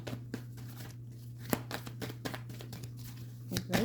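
Tarot cards shuffled by hand, a series of soft papery riffles and slaps at an irregular pace over a steady low hum, close and fairly quiet.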